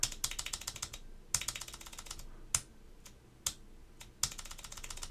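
Typing on a Hex.3c keyboard with Alps SKCM White switches: a close, rapid run of crisp clicky keystrokes with a few louder, sharper presses spaced throughout.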